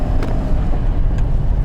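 A VAZ 2101/2106 car on a test drive after brake repair, heard from inside as a loud, steady low rumble of engine and road noise, with no talk.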